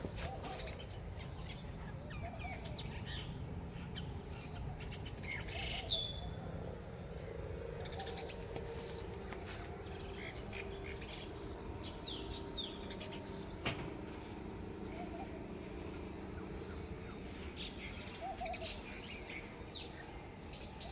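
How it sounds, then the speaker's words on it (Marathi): House sparrows chirping in the morning outside a kitchen, scattered faint chirps and tweets over a steady background hum of household and outdoor noise. "इतका गोड सकाळ सकाळी हा चिमण्यांचा चिवचिवाट चालू होता"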